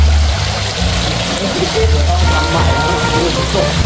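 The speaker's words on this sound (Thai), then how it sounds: "ดีนะเขามีแบบน้ำตกลงมาให้คาปิบาร่าเล่น" Small waterfall splashing down into a capybara enclosure at a café, a steady broadband rush of falling water, loud and close throughout, with faint voices underneath.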